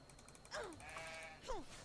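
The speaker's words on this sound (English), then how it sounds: "That's a level 56 sheep." A level 56 sheep in the video game Dark and Light gives two short bleats, the second sharper, close and clear over faint background game ambience.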